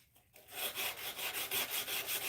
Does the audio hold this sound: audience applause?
no